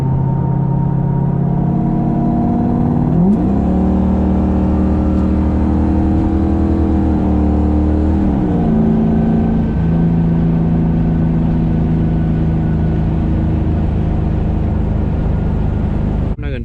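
A 2004 Ford Mustang GT V8 pulls hard and loud from inside the car, engine drone climbing and then dropping at each gear shift, several shifts across a long run at speed.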